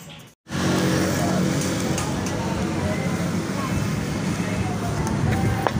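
A motorbike being taken out and started, its engine running loud and steady right after a brief gap, a continuous close drone throughout.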